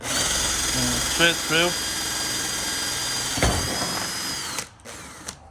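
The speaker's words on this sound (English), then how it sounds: "Okay, so keeping the drill nice and straight" A power drill whirs steadily for several seconds, drilling through the stock front bumper of a BMW M240i, close and loud, with brief clunks as it stops near the end.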